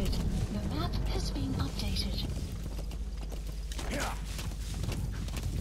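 Horse hooves clip-clopping through Metal Gear Solid V: The Phantom Pain, a steady trotting patter under game music and constant talk, with the horse stumbling as it tries to jump around a rock.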